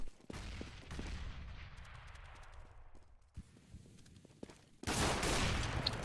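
Gunfire in a Counter-Strike match, heard as quick bursts of rifle shots followed by a few pistol shots, fairly faint with reverberant tails, then a louder wash of noise near the end.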